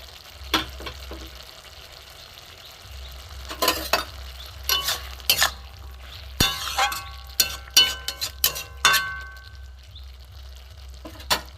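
A banana flower curry with potatoes, chickpeas and grated coconut gets stirred in a pan, with a spoon scraping and clinking against the metal in bursts over a soft, steady simmer.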